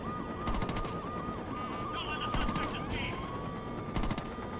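Gunfire in the Saints Row 2 video game: repeated bursts of rapid shots crackle in clusters over a constant mechanical drone and game sound effects, loud and close throughout.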